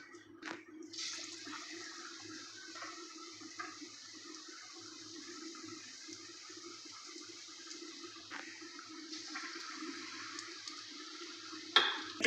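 Pakoras fry in oil over a low flame with a soft, steady, fairly faint hiss that runs unbroken, ending in a couple of small clicks.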